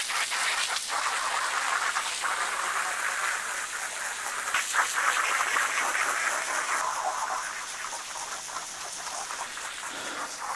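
Steady water spray rinsing a boat after scrubbing, a dense continuous hiss that runs throughout at an even level, easing slightly toward the end.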